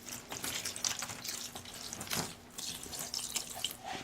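Kool-Aid is poured over a blanket in a bathtub, giving a continuous splashing, trickling pour close by with a few brief drips and no voices.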